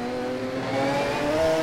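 A 1985 Volvo touring car engine revs hard during a New Zealand touring car race at Lady Wigram, a loud, sustained, rising mechanical drone with clear harmonic whine as the car accelerates.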